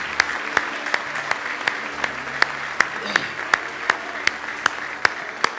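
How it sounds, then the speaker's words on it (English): Church congregation at a Sunday service claps in praise, a steady, evenly spaced rhythmic hand clap with sharp beats roughly every third of a second over soft background murmur and sustained tones, moderately distant. "Give the Lord a big hand clap of praise this morning."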